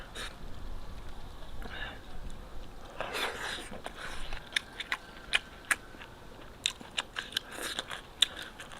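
Crunchy bites and chewing of braised noodles with pork and green beans, topped with peanuts, in close, irregular crisp bursts that grow more frequent toward the end, with brief talking early on.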